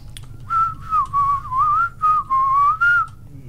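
A person whistles a wavering tune in a stone cathedral crypt, several sustained notes in short phrases with small pauses, clear and close over a faint low background hum.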